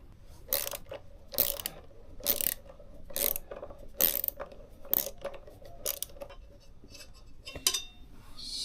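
A 10mm wrench working a brake line fitting on a BMW R1100GS motorcycle, a series of sharp, evenly spaced ratcheting clicks, close and clear with light background noise.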